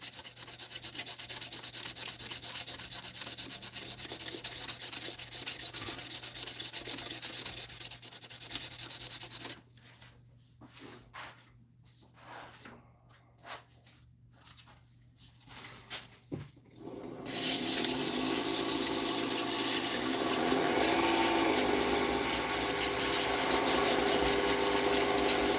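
A cherry wood pen is sanded on a lathe, giving a loud, continuous rubbing hiss that fades into intermittent strokes in the middle and then returns stronger and brighter.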